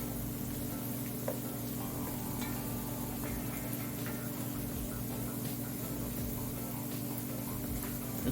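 Saltfish frying in a pan for stir-fried callaloo gives a steady, dense sizzle that runs unbroken throughout, close and fairly loud, with faint crackles on top.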